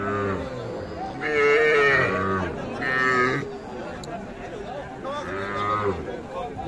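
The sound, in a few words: cattle and calves at a livestock market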